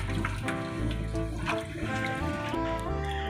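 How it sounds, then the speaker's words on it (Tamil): Water pours into mutton kulambu curry in a pressure cooker, a continuous splashing and trickling that stays steady and fairly loud throughout. "நம்ம குழம்புக்கு தகுந்த மாதிரி தண்ணி ஊற்றிக்கலாம்."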